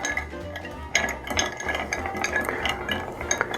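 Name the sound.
stirring Sazerac cocktail with ice in mixing glass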